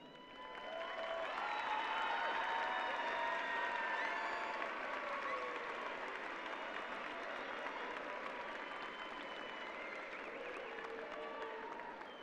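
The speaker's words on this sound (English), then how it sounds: "Will the families of our graduates please stand and give yourselves a round of applause." Families stand and applaud at a high school graduation ceremony, a broad wash of crowd clapping that swells in over the first seconds and then holds steady, with scattered cheers and whistles, heard from a distance in a large venue.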